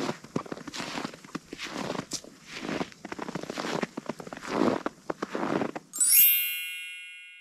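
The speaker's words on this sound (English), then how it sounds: "The correct answer is walking in snow." Footsteps crunching through snow in a steady walking rhythm, each step a short burst of compacted crunch, close and fairly loud, followed by a bright chime near the end.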